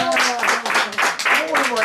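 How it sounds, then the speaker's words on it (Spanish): Rhythmic applause at a 107th birthday party, loud and close, with bursts of clapping rising and falling under overlapping voices. "aplaudiendo"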